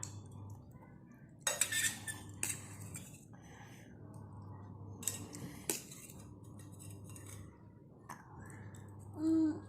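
A child eats Maggi noodles with a fork and spoon, metal cutlery clinking against a plate in a few sharp, scattered taps over a quiet room hum, with soft voices nearby.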